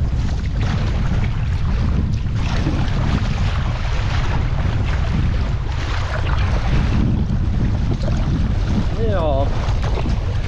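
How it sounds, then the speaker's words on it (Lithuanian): Strong wind blows against a boat being paddled on a river. The gusts roar and buffet continuously, close and loud, with faint water noise underneath. "Dar ir prieš vėją."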